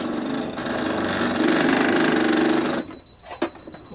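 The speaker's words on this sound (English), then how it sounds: "I fear my sewing machine may not be long for this world" A struggling sewing machine stitching a jacket sleeve, a fast buzzing whir that labors and grows louder, then cuts off abruptly near the end, followed by a few faint clicks.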